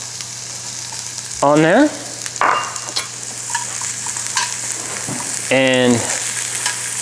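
Onions frying in grapeseed oil in a Borough Furnace skillet give a steady sizzle throughout, with a voice speaking briefly over it in a few short bursts.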